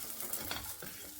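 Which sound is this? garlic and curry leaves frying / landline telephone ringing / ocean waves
garlic and curry leaves frying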